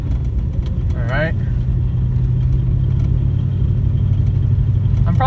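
The cammed V8 of a 2001 Mustang GT driving on snowy, slippery roads, a loud, steady low rumble throughout with a brief rising whine, and someone speaking over the engine.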